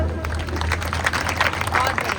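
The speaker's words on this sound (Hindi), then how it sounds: "इनके लिए तालियां बजाओ सब" A crowd at a protest sit-in claps for the demonstrators, scattered uneven applause rising in the middle while voices murmur underneath.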